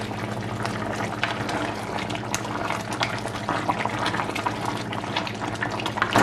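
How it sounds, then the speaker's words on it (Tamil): Baby jackfruit curry simmers in a covered pot, giving a steady, fairly quiet bubbling hiss with soft pops and crackles throughout, no voices over it. "இப்போ ஒரு 10 நிமிஷமாக கொதிச்சு கொண்டு இருக்குது."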